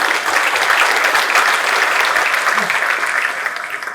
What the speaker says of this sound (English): a round of applause for you guys to be in this program